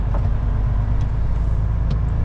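A heavy truck's engine runs loud and steady with deep low rumble throughout, a brief hiss near the start as it pulls away, with no talk over it.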